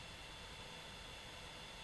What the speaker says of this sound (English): So it's pretty much just white noise. It's a very quiet fan.